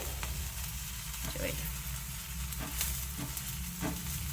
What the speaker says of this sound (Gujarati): હવે આપણે બીજી સાઈડ પણ તેલ લગાવી અને ચડવા દેવાનું છે